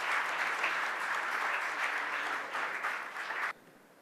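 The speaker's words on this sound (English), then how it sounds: "Can we please welcome her with a warm round of applause?" A seated audience applauds to welcome the Governor on stage at an advertising association event on gender portrayal. The clapping is full and sustained, then stops abruptly near the end, leaving a quiet room.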